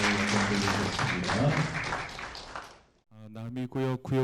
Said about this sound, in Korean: 우리 박수로 하나님께 영광 돌리겠습니다.